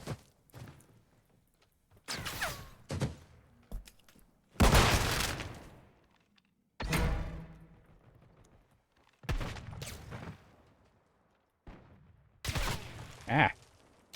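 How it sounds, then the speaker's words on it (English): Sniper fire in a Call of Duty match comes as several sharp, booming shots spaced a couple of seconds apart, each followed by a brief rumbling tail, with quieter game noise in the gaps. "These snipers suck, but I don't like being shot at repeatedly."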